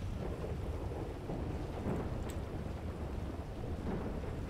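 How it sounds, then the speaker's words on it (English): Thunder rumbles through a stormy night in the GTA World roleplay game, a steady low roar with wind and rain noise running unbroken for several seconds and no talking. "But this thunder is crackling out here."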